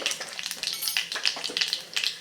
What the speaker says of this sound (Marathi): मोहरी छान तडतडायला सुरुवात झाली